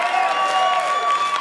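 Audience applause, a short dense burst of clapping from a crowd, steady and fairly loud throughout.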